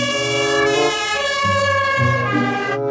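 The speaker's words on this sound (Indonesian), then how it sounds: "Ada mobil damkar yang kecil. Wadidaw, wadidaw." A toy fire truck siren wails continuously with bright electronic tones, loud and close, shifting pitch a couple of times before cutting off.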